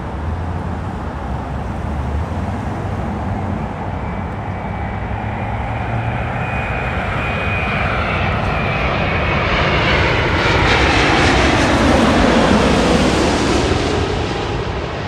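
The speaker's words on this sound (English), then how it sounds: "Time for the Virgin Atlantic Dreamliner" A Virgin Atlantic Boeing Dreamliner jet at Los Angeles International Airport produces a loud, sustained engine roar that builds and swells toward the end as it passes nearby.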